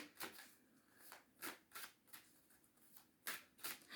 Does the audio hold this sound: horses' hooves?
no